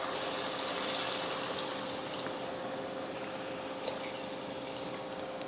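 Water pours steadily into a pressure cooker holding soaked basmati rice for biryani, a soft continuous trickle that runs evenly with a faint hum behind it.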